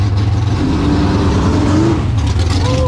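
A truck engine revs loudly at a summer truck meet, a steady heavy low rumble with rising and falling revs held close and continuous throughout.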